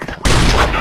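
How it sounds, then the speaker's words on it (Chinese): A short burst of rapid gunfire in an online shooter match on the Ceyhan map, erupting suddenly and loudly and filling the rest of the moment. "听到枪声"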